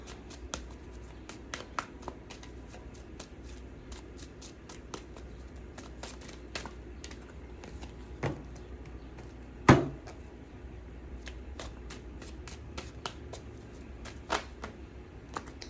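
Tarot cards being shuffled by hand: quiet, crisp flicks and taps spaced irregularly with one sharper knock, close and soft, with no talking.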